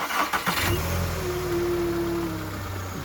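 A car's 75 kW MPI engine cranks briefly, catches, and settles into a steady idle, close and fairly loud, on a lift at a car market.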